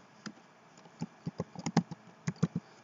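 Quick bursts of typing on a computer keyboard as a terminal command is entered, a dozen or so close, crisp key taps in an uneven rhythm, with no talking.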